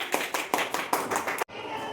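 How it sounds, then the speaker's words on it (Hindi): A class of schoolchildren claps in a quick, even rhythm during a math lesson. The burst of applause is moderately loud and cuts off suddenly after less than two seconds. "तालियां बजाओ दोनों के लिए"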